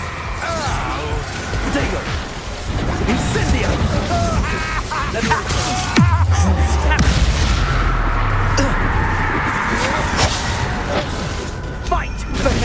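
Spell blasts and explosions in the video game Hogwarts Legacy, with repeated booms, crashes and mechanical clatter in a loud, dense battle, and voices casting spells over the noise.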